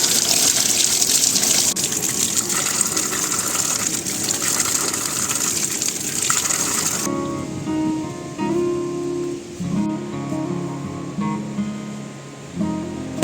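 Cold natural water gushes steadily in the Uttarakhand mountains near Baijro, a loud continuous splashing flow that drops partway through into a lower, bubbling trickle.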